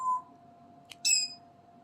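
Pet bird Smokey gives a short, bright call indoors, a quick chirp followed by a louder shrill burst of a few notes, close by and otherwise quiet apart from a steady hum.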